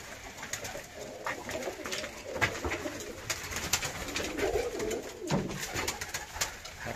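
Birmingham Roller, Budapest and Viciana pigeons cooing steadily in a loft, soft overlapping calls with a busy rustling background of many birds close by.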